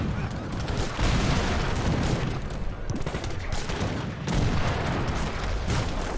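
Skirmisher infantry in a real-time strategy game fire dense, continuous volleys of musket and rifle shots, a thick rolling fusillade with occasional heavier booms and no pauses.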